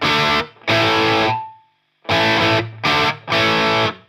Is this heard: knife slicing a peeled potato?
no